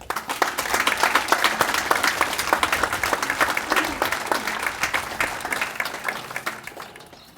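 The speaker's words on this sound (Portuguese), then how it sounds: "uma grande salva de palmas também para eles" An audience applauds at the inauguration of a parish complex in Rio Tinto, Esposende, with dense steady clapping that gradually thins and fades out.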